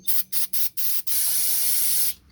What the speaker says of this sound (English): We're just going to spray it down, get everything as clean as we can